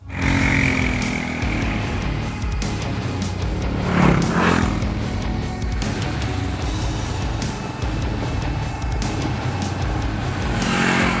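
Royal Enfield Meteor 350 motorcycle on the move, a steady loud engine and wind roar holding throughout with a brief swell in the middle, no talking.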